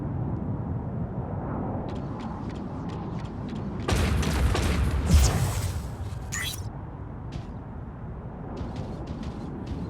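A mech is destroyed in a video game with a sudden loud blast and rushing burst over ongoing game noise, followed by a sharp whoosh, while faint clicks and effects continue around it.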